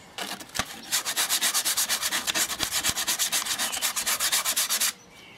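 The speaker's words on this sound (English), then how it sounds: "After sawing wood, rough edges can be removed with sandpaper, so the risk of splinters is reduced." Sandpaper rubbed back and forth over the rough, freshly sawn edge of a piece of wood, a steady run of quick, even scratching strokes close by, about four seconds long, then it stops.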